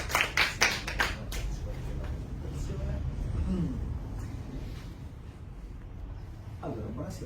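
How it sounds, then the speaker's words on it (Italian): An audience at a lecture event claps in welcome, a dense burst of applause that is loudest at the start and fades over the first second or two, followed by a speaking voice. "diamo un applauso di incoraggiamento"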